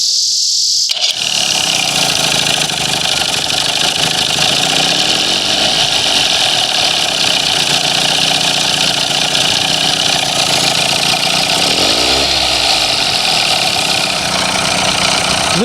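Old outboard boat motor idling steadily after a short start at the beginning, a loud, continuous buzzing drone with a slight wavering in pitch, close up and with no talking.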